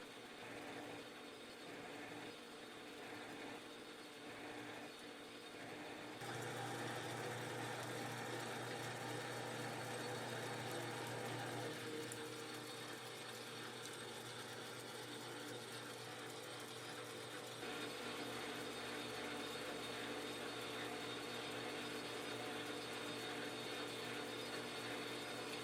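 A metal lathe chuck runs in reverse while knurling, a steady mechanical grinding and clicking whir that grows louder after a few seconds and continues without pause, no voices.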